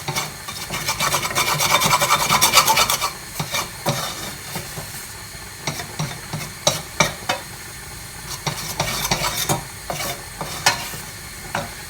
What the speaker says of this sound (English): And you just want to cook out the flour for 2 to 3 minutes. And if you stop stirring, it will stick.